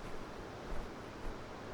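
Partially frozen waterfall still flowing, heard as a steady, fairly loud broadband rush of water with slight swells and no voices.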